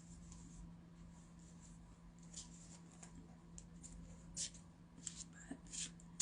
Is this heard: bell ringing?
no